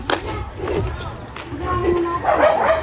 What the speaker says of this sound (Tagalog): Nagtatahulan pa ang mga aso.